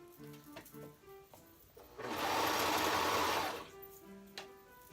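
A sewing machine stitches fabric for an off-shoulder top in one steady, loud run of about two seconds, with quiet handling sounds before and after.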